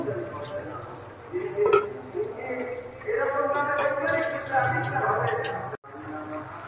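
Shing fish curry with bottle gourd simmering in a pan, with a spoon stirring, scraping and clinking against the metal at intervals, and liquid bubbling softly underneath.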